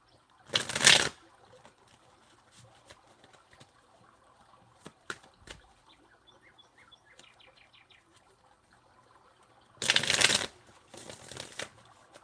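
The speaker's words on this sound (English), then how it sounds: "this shuffle is getting a little bit intense" Tarot cards are shuffled in two sharp, brisk riffling bursts, one near the start and another near the end, with quiet gaps holding faint chirps and small clicks.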